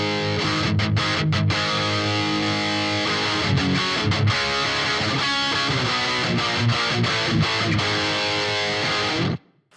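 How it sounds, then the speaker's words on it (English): Heavily distorted electric guitar through a BOSS GT-1000 plays loud, sustained rhythm chords and riffs without pause, cutting off abruptly at the end. "And I've got a distortion in here."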